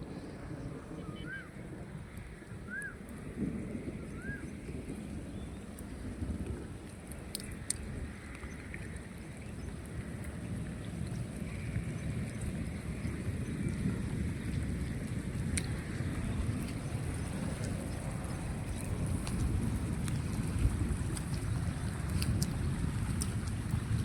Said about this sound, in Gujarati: પાછો અત્યારે વરસાદ ચાલુ થઈ ગયો છે